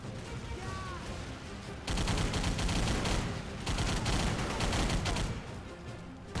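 Bursts of automatic gunfire from a World War II shooter set on Wake Island, loud sustained volleys starting abruptly and pausing briefly before resuming, with a faint whistle early on.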